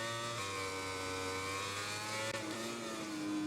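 A Suzuki racing motorcycle in MotoGP 20 revs hard as it accelerates, a steady, close engine whine whose pitch climbs and shifts through gear changes, heard alone without talk.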